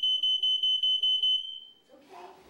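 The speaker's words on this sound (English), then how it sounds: "testing for working smoke detectors" A smoke detector being tested sounds in a series of sharp, high-pitched electronic beeps, about six in quick rhythm, then stops as a voice begins speaking.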